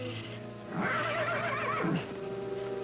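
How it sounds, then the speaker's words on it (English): A horse whinnies once, a loud rising-and-falling neigh lasting about a second over a quiet background, in an old Western television show. "is that Trigger giving me the horse laugh again"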